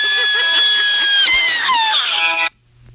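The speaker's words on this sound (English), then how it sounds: "Rabbids Girly Scream." A high, squealing girly scream from a Rabbids video game creature, a wavering shriek with rapid pitch slides lasting about two and a half seconds before stopping abruptly.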